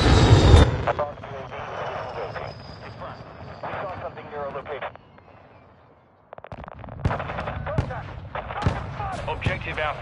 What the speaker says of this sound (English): Our mortar strike is inbound.